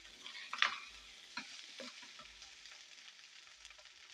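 Sweet corn carrot rice is stir-fried over a high flame, a soft, fairly faint sizzle with a sharp clink early on and several gentle scraping stirs of the spatula through the pan.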